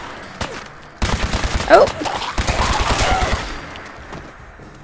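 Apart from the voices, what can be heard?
weapon gunfire in video game Fallout 4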